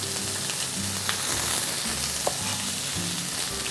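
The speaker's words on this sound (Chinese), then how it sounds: "让它继续煎" Chicken thigh steak pan-frying in its own rendered fat, no added oil, with a steady close sizzle and a few faint clicks of a utensil, no talking.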